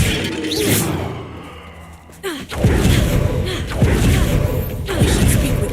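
A Bombarda blasting spell cast in the video game Hogwarts Legacy, a burst of whooshing magic followed by several heavy thuds and crashing impacts over a busy, rumbling game background.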